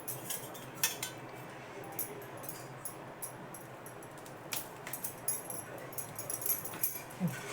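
A knife cuts steamed raw papaya vadi into small square pieces. Faint, irregular clicks and taps of the blade on a plate or board sound close by in a quiet kitchen.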